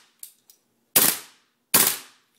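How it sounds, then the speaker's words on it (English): A WE M4 gas blowback airsoft rifle dry fired with the bolt lock off gives two sharp, loud hissing cracks under a second apart, preceded by a couple of faint mechanical clicks, in a quiet room. "I just turned off the bolt lock just to dry fire so you guys can see."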